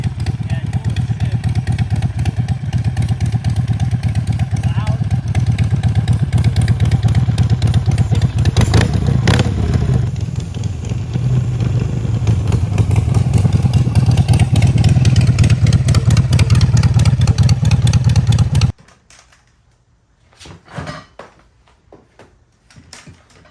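A motorcycle engine runs loudly and steadily, rumbling and revving close by, then cuts off abruptly, leaving faint clattering noises.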